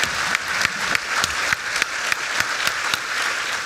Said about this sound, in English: So can we give a round of applause to our panelists here, please?